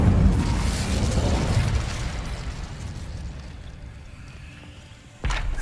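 Incendio fire spell in the video game Hogwarts Legacy, a rumbling whooshing blast that slowly fades, followed by a sharp sudden burst near the end.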